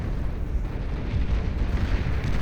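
Energy converters explode in the Beyond All Reason real-time strategy game during an 8v8 deathmatch, a continuous rumbling roar of blasts that grows louder and heavier.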